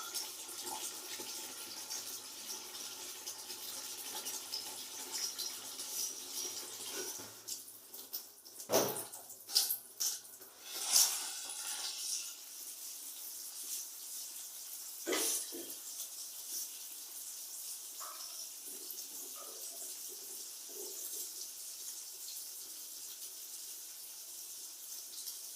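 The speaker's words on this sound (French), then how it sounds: "J'attends de l'eau que ça puisse se remplir dans les seaux" Tap water running into buckets to fill them for rinsing hand-washed laundry, heard as a continuous faint pouring with a few louder splashes and knocks.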